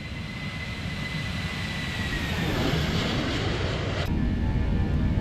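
Toliss A321 airliner in the X-Plane 12 flight simulator making a low flyby, a steady engine roar and whine building gradually in loudness, with a brief sharp whoosh near the end.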